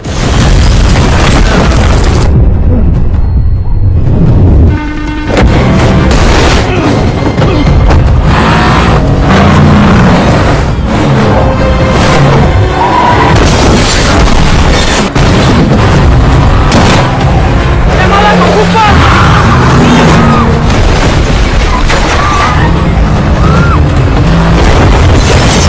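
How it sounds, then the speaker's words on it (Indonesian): A bomb goes off in an action film, a loud, close, heavy blast that booms and rumbles, then keeps up a dense roar of debris and cinematic noise to the end. "langsung saja meledak"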